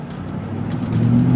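A Ford Mustang Cobra with 11,000 miles, once flooded and fitted with a new clutch, drives off as its engine note swells louder and rises in a short, close burst of acceleration.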